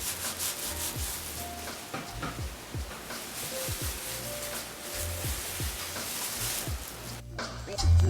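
Terra sigillata slip on a pottery piece being burnished by hand, a steady close rubbing and scraping with repeated short strokes, continuous throughout.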